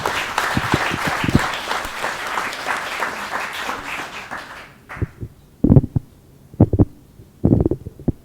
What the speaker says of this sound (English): If you guys can all give him a round of applause.